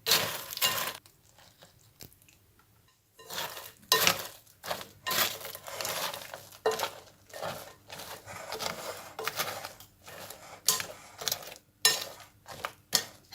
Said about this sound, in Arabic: هنحط على طول البودنج على البسكوت وهنقلبه كده مع بعض